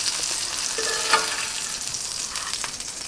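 Shrimp stir-frying in a pan with sesame oil, a close, steady crackling sizzle with a few louder pops and stirring scrapes.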